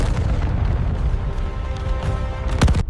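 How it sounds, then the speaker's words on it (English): A bomb blast at a harbor-side fuel depot during a WWII B-25 bomber raid: a continuous loud low rumble with a sharper boom bursting through near the end, no voices. "The first explosion tears through the fuel depot beside the harbor."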